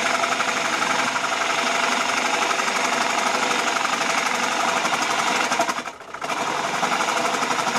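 Turning tool cutting a spalted wood bowl on a lathe, a steady loud rattling, chattering grind that keeps on without pause, dipping briefly before resuming.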